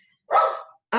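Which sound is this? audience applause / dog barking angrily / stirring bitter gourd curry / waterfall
dog barking angrily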